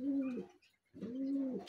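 Racing pigeons back from a hard derby race coo nearby in two long, low, rolling calls separated by a short pause.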